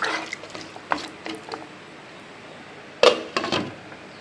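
A lid is set down on a cooking pot of vegetables with a sharp metallic clatter, followed by a few lighter clinks, after some softer kitchen taps.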